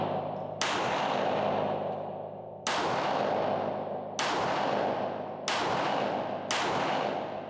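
Five live-fire pistol shots at a shooting training range, each a loud sharp report with a long echoing decay, spaced unevenly over several seconds.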